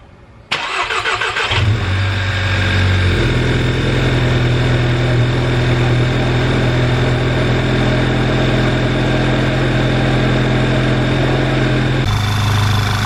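A VW Golf GTI MK6 with 140k miles cranks on a cold start and then settles into a steady, loud, close idle, its low engine hum holding even before the pitch shifts slightly near the end.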